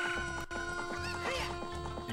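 Chickens cluck in a Zelda: Ocarina of Time game scene, several short squawks popping up over steady tonal game music, fairly close and moderately loud.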